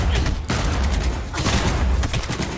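Dense, rapid gunfire from a weak, unsatisfying gun in Cyberpunk 2077, a continuous loud volley of cracking shots with brief dips, close and dominant, with no talk.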